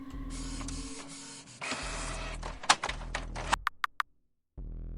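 Printer printing in a video game, a loud mechanical whirring and grinding with rhythmic feeding clunks, ending in a few sharp clicks before a brief silence.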